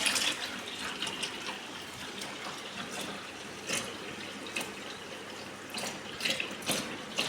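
Water runs steadily from a tap in a continuous hiss and splash, with a few brief clunks along the way.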